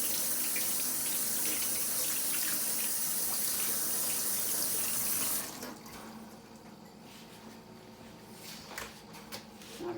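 Raw chicken pieces are rinsed under a running kitchen faucet, a loud close gush of water into the sink that stops abruptly partway through, followed by quieter handling and soft clatter.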